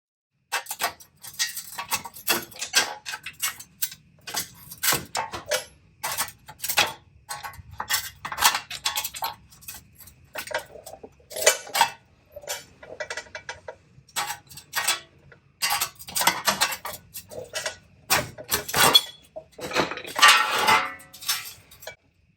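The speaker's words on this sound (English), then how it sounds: "I left all the hammer hits in here so you guys can see what it takes to get it off" Repeated hammer and 2-pound sledge blows knock a stuck wheel hub off a Toyota Tacoma, sharp metallic bangs coming in uneven bursts and rapid flurries, loud and close, with no talking.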